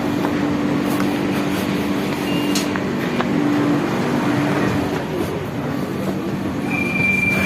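A metro train rolls along the rails with a steady rumble, brief wheel squeals and faint clicking, heard close and continuously without speech.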